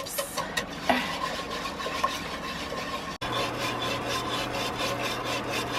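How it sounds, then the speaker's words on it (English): Flour being whisked into cold water in a Dutch oven, a steady rhythmic scraping of the whisk against the pot, close and moderately quiet, with no talking. "go ahead and whisk that in until I get rid of most of the lumps and the clumps"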